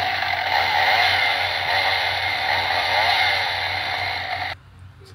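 A Halloween animatronic prop chainsaw gives a loud, steady buzzing rev with a rough, rasping pulse, running continuously up close before cutting off abruptly near the end.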